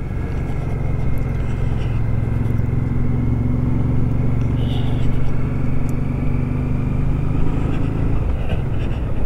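A motorcycle cruises along a road during a two-bike tour, its engine droning steadily and loudly with wind noise throughout, then easing off near the end.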